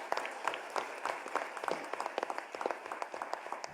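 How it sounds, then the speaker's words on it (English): A round of applause from an audience welcoming a guest speaker at a workplace talk, many hands clapping in a dense, steady patter for a few seconds without voices. "Can we please welcome Mrs. Shrija Jhawar ma'am with a big round of applause?"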